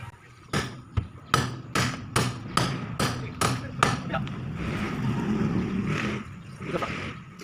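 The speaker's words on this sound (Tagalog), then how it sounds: "Martilyo na." A hammer strikes a wheel tire in a run of about nine sharp, evenly spaced metallic blows, close and loud, followed by softer shuffling and fainter knocks.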